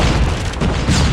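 A heavy, rumbling boom from a grenade blast in the video game Call of Duty Mobile fills the short moment, loud and close with a dull low roar, no talk.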